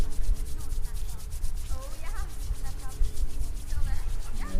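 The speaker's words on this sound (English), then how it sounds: "Now we're going to put our hands together, rubbing, making some heat." Two hands rubbing briskly together to build heat during a qi gong exercise, a steady, close, dry swishing friction that continues without a break.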